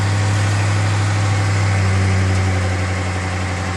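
Ford F150 pickup engine idling after start-up, a loud, steady low rumble with constant vibration, close by and uninterrupted, no voices.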